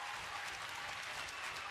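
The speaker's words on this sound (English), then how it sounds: "As Ibushi soaks up the adulation from the crowd here tonight" Steady applause and cheering from a wrestling arena crowd for Kota Ibushi at a WWE Cruiserweight Classic match, a broad, distant wash of clapping that holds evenly throughout.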